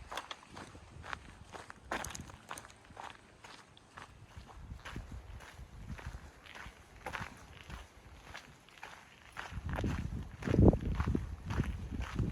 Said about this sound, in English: I'm gonna try and run that downhill.